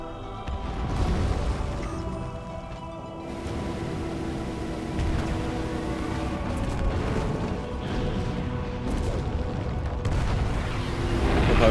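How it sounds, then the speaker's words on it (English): In Metroid Prime Remastered a crater collapses, giving a continuous loud rumble with repeated booming explosions scattered across it. The roar builds steadily toward the end. "Crater collapse imminent. Evacuate immediately."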